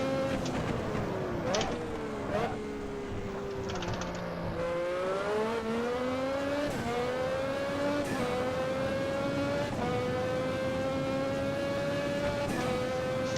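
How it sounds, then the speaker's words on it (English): A classic Formula car engine in a racing sim, likely the 1988 Hockenheim circuit, drones steadily and loudly with a rising pitch, broken every couple of seconds by sharp drops as it shifts up, all close and continuous. "To upshift without using the clutch, we've got to try and rev match."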